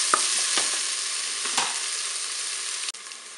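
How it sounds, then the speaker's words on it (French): Courgettes brown in a Cookeo multicooker, a steady bright sizzle of frying with a few light scrapes of stirring, close and continuous, with no talking. "On va faire dorer un peu plus nos courgettes."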